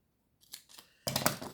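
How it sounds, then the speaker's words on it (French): Scissors cut through paper card for a handmade greeting card, a few short snips followed by a longer, louder run of crisp cutting strokes close up, with no talk. "Bon, je vais prendre le ciseau."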